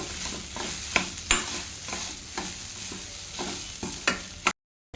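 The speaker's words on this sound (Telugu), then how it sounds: "ఇది మంచిగా ఫ్రై అవ్వాలి ఇది మాడిపోకుండా కలుపుతూ ఉండాలి" Meal maker chunks fry in a pan while a spoon stirs them, making a steady sizzle with periodic scraping strokes and clinks before the sound cuts off abruptly.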